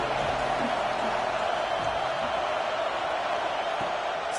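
A home crowd at an Oregon versus Alabama football game roars in a steady, dense wall of noise with a commentator talking over it.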